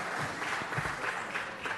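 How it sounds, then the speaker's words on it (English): A crowd at a city council meeting claps steadily, a dense wash of hand claps with no voices over it. "Let's give him one more round of applause."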